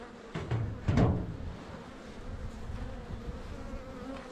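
Honeybees buzz close around a wooden beehive in a highland village setting, giving a steady droning hum with a louder pass of nearby wings and faint clunks of hive handling.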